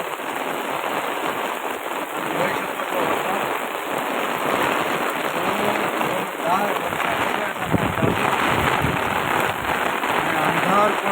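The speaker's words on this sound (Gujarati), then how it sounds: "આજે વરસાદ ચાલુ થયો છે ધૂમ" Heavy monsoon rain pours down in Rajula with gusting wind, a dense, loud, continuous hiss and patter on surfaces throughout, with faint voices mixed underneath.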